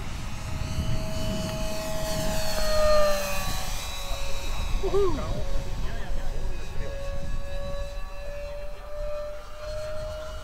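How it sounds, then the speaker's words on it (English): An Avios KingTwin 1700mm twin-engine RC model airplane flies overhead at full throttle, its high motor whine holding steady and shifting in pitch as it turns and passes. "Keep it at full throttle, really turning and burning now."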